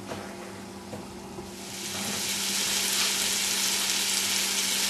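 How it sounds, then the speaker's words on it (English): Onions, potatoes and tomatoes sizzle in a pot for minestrone, giving a steady close frying hiss that swells louder partway through. "As the onions and potatoes are cooking, you stir the tomatoes"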